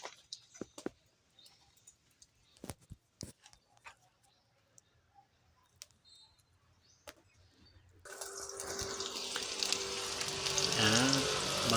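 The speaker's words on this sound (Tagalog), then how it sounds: "una lagyan natin mantika. Tapos unahin natin yung bawang." Garlic hits hot cooking oil in a pan for squid adobo, bursting into a loud, steady sizzle after several seconds of quiet kitchen clicks and taps, building and crackling close by.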